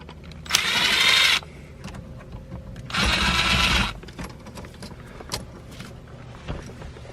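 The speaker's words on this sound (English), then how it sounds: "There are 2 screws that hold the connector in, or the actual switch assembly. So I'm gonna just take those out real quick." Short bursts of a cordless power driver whirring as two screws come out of the power seat switch assembly in a Corvette C4 interior, two loud runs separated by quiet handling clicks and taps.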